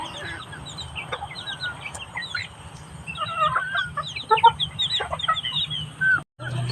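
Several chickens cluck busily nearby, the calls growing denser and louder halfway through, over a constant low rumble, ending with a brief dropout; the chickens include small young birds.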